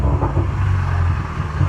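A 2014 VW Mk6 GTI with a blow-off valve fitted gives a low engine rumble close by that swells slightly as it revs, with no clear valve release standing out.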